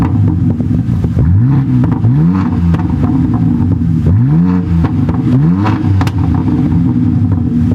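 A car engine with a modified exhaust revs repeatedly in short, loud bursts, each rising and falling in pitch over a rumbling idle, close up and without talk.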